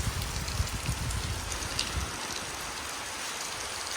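Steady rain pours down outside a house with broadband hiss and low patter, spattering close by for the first half and then settling into an even, continuous wash.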